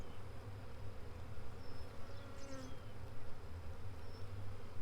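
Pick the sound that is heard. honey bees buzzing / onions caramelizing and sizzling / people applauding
honey bees buzzing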